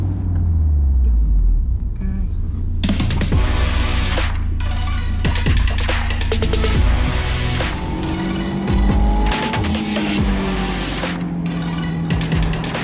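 Honda S2000 with a naturally aspirated engine being driven, a loud steady engine drone with rising and falling pitch and gear-change dips, close and continuous throughout with no talk.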